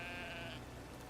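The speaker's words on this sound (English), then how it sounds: "Maybe I can use this sheep here." A single sheep bleats up close in the Brothers: A Tale of Two Sons video game, a short wavering cry over a continuous game background.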